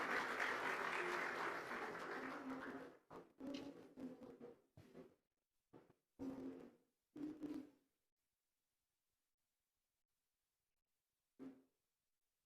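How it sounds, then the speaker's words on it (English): Audience at the TamilNadu Global Investors Meet clapping, a dense burst of applause that thins into scattered, irregular claps and fades to silence with one late clap. "please give a big applause"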